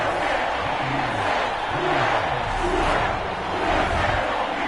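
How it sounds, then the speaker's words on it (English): A stadium crowd in an American football video game roars after a late field goal by the home team, a sustained, even cheer that fills the whole stretch. "The home crowd here absolutely loves it, as they should, getting the field goal in the closing moments"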